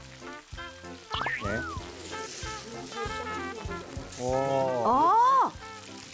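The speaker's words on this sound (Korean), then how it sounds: "그 방식으로 얘를 한번 튀겨줍니다." Rice paper fries in hot oil with a steady crackling sizzle that runs under the clip, while people talk and exclaim over it.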